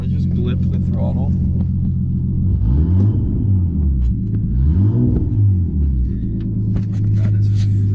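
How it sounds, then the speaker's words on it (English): A car engine rumbles at idle, then revs twice in quick succession as the throttle is blipped, each rise and fall clearly heard, before settling back to a steady idle; the revving is loud and close. "So if I just blip the throttle"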